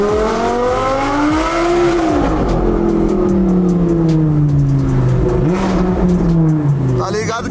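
A Lamborghini sports car engine revs loudly nearby, its pitch climbing and falling in repeated sweeps as the throttle opens and closes, while people talk over it.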